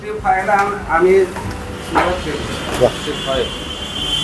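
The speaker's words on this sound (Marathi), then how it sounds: "समोसे गरम गरम फ्राय होतात" Samosas fry in hot oil at a snack shop, a steady close sizzle and bubbling running under people talking nearby.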